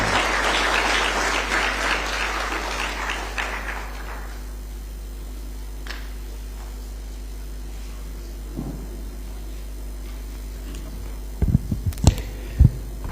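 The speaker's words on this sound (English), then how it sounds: "Let's give him applause." An audience at a public policy event applauds a chief guest invited to the stage, with dense clapping for about four seconds that fades out, followed by a quiet hall with low hum and a few scattered knocks.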